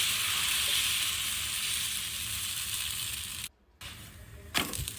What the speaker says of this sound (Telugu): ఇప్పుడు మనం దోశలు వేసేసుకొని